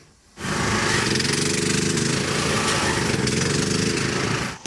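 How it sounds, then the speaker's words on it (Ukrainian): Drilling rig boring a new water borehole in a neighbourhood of Dnipro, a loud steady mechanical roar with rapid pounding that starts abruptly and runs continuously at close range. "Буремо нову свердловину для того, щоб і жителі цього мікрорайону міста Дніпра мали взимку доступ до води."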